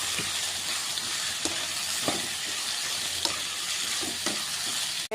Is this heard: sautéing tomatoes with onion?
yes